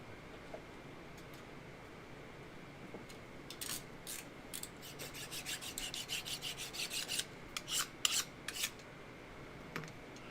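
Blade being sharpened on a sharpener, a run of quick, dry scraping strokes that begin sparse, then grow into a rhythmic series of rasping passes before tapering off, close and fairly quiet.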